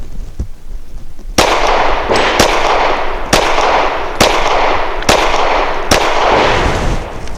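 A Glock 19 pistol fitted in a Full Conceal folding frame fires about seven loud, sharp shots, one early then six at a steady pace, each followed by a ringing outdoor echo.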